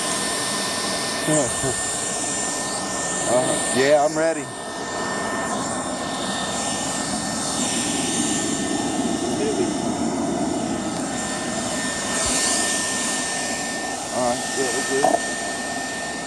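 A steady blower roar drones throughout from a hair dryer forced into a hole-in-the-ground furnace, with people talking briefly over it.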